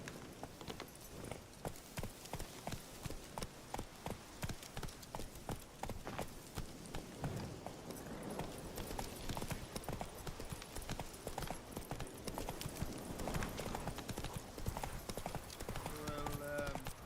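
Geralt's horse Roach clip-clops steadily along in The Witcher 3, with a regular, close hoofbeat rhythm running the whole way over a constant wash of in-game ambience.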